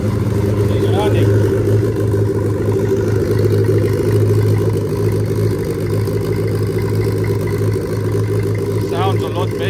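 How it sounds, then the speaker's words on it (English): A budget-built turbo Suzuki Hayabusa motorcycle engine idles with no boost, a steady low rumbling throb running throughout with faint clatter and brief voices in the background. "Sounds a lot better with all the cylinders running."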